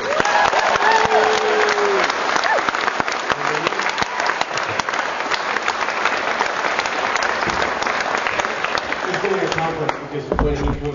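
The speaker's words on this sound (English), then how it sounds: "Put him a huge round of applause for Mr." A convention audience at Armageddon 2008 in Auckland bursts into loud applause for actor David Hewlett, a dense, sustained roar of clapping with cheers and crowd noise mixed in that holds steady before easing slightly near the end.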